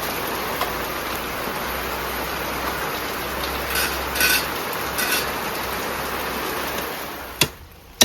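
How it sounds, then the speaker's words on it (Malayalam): Steady, dense rain hisses throughout, loud and close, with a couple of sharp knocks near the end. "മഴ വീണ്ടും പെയ്തു"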